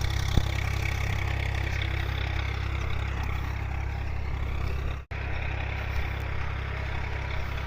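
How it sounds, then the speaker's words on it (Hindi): A tractor engine runs steadily nearby on a farm during ploughing, a continuous low mechanical drone with a brief dropout near the end and no talk. "मुझे उधर ट्रैक्टर चल रहा है"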